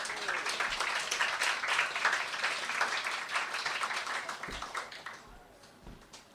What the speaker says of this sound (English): claps for Peter